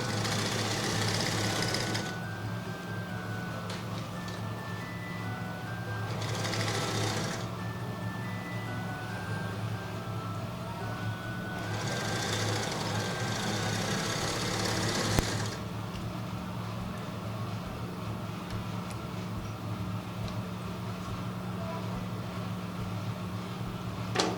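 A sewing machine stitches the shoulder seams of a flared gown, running in several steady whirring bursts separated by short pauses, close and fairly quiet.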